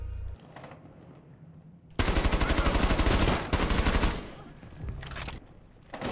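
Heavy automatic gunfire in the tactical shooter game Rainbow Six Siege, loud dense bursts of rapid shots lasting a couple of seconds at a time, with quieter gaps and faint background sounds between volleys.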